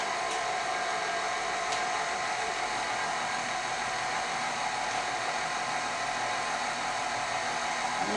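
Electric mixer running steadily on a slow stir setting while powdered sugar frosting is mixed for a cake, a continuous even whir with no talking.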